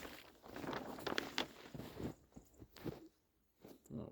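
Footsteps walking outside in snow, a handful of soft crunching steps in an uneven rhythm, close and quiet, with a brief pause near the end.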